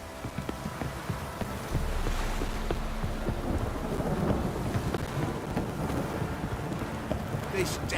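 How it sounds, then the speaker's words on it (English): Steady heavy rain pours down in The Witcher game, with a low thunder rumble rolling in after the first couple of seconds and faint clip-clop of hooves, the downpour holding dense and even to the end. "This downpour's a bastard"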